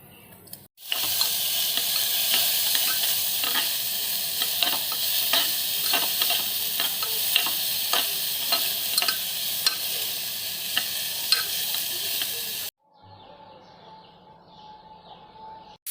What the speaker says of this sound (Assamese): এয়া অকণমান ঘি দিছোঁ মই। তাৰপিছত অকণমান পাঁচফোৰণ দিলোঁ।